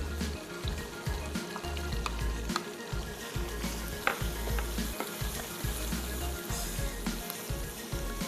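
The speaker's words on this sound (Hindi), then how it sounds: "दही डाल के थोड़ी सी करते हैं भुनाई।" Mutton sizzling and frying in a pan after yogurt goes in, sautéed for a garlic mutton biryani; a steady crackling sizzle runs throughout with stirring scrapes and small pops, close and fairly loud.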